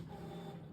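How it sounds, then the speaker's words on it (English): A home printer runs in a steady mechanical hum with a constant low drone and faint whirring overtones, close by and continuous for the whole short moment, with no voices. "my printer just decided to make some noise."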